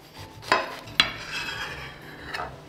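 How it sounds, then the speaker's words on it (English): A knife slicing into a cooked quarter pound cheeseburger on a plate, two sharp clicks of blade meeting plate followed by soft rasping cuts, close and quiet with no talking. "Let's cut this bad boy open and see how we did."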